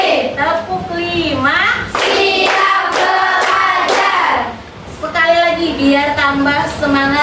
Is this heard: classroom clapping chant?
yes